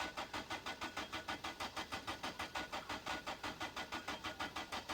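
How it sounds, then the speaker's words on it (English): A car engine in the video game My Winter Car cranks over steadily with an even, rapid rhythmic churn, held close and loud for the whole stretch with no talking over it. "Can I just hear the roar of an engine,"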